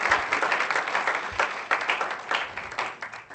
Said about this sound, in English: Let's give Ms. van der Merwe a round of applause one more time.